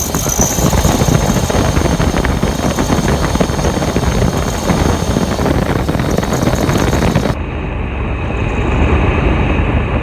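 An old Dodge Ram pickup engine idling while its air conditioning is recharged: a steady close engine drone with wind buffeting the microphone, continuous for the whole stretch.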